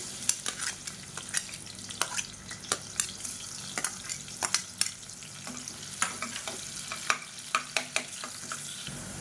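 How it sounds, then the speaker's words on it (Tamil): Medium-sized onion, sliced lengthwise, fries in hot oil in a pan with a continuous close sizzle, punctuated by frequent sharp clicks and scrapes of stirring, no talking. "மீடியம் சைஸாக ஒரு வெங்காயம் நீளமாக நறுக்குனதை சேர்த்துக்கலாம்"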